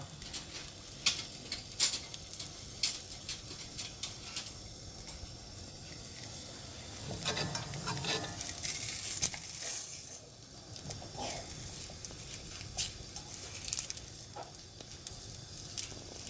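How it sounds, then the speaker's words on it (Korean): Soft, steady sizzling and crackling of ham frying in a pan, with occasional louder pops and scraping, fairly quiet throughout. "햄을 지글지글 구워야겠네요."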